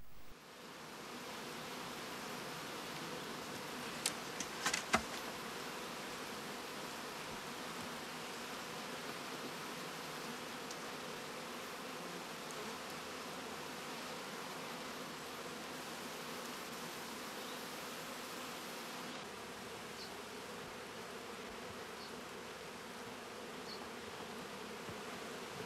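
A steady, even buzzing drone from honeybees in a multi-box Langstroth-Root hive continues for the whole span, close and constant, with a few brief knocks near the start.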